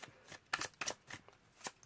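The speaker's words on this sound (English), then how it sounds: "So I'm going to go ahead and shuffle" Tarot cards are shuffled by hand nearby, a quiet run of soft riffling flutters and slaps in irregular bursts, with no talking.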